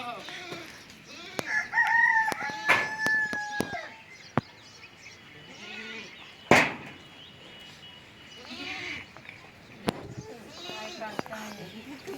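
Chickens and a rooster crow and cluck close by in a farmyard, with a woman calling to the hens; people talk over and between the birds.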